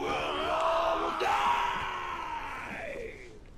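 Several voices yelling and whooping together in an Isle of Siptah roleplay game scene, a loud sustained burst of crowd shouting that swells in the middle and tapers off toward the end.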